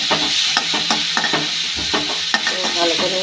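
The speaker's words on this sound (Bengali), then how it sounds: "তো ভালো করে রসুনটাকে ভেজে নিই" Garlic fries in a spiced egg curry with bay leaf, a continuous close sizzle broken by repeated scraping and stirring strokes of a spoon against the pan.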